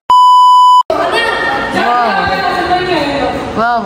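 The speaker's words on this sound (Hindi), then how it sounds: "ये टाइमर लगा है, टाइम बताता है।" A timer in a cricketers' exercise area gives one loud, steady electronic beep lasting nearly a second, then cuts off, followed by crowd noise and people talking.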